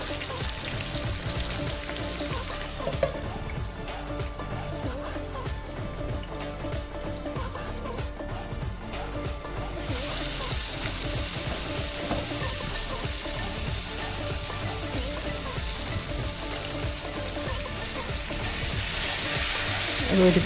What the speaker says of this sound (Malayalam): ലോ ഫ്ലെയിമിലിട്ടിട്ട് മൊത്തം 3 മിനിറ്റ് ഒന്ന് മൂടി വെച്ച് ഒന്ന് ഫ്രൈ ചെയ്യുവാണേ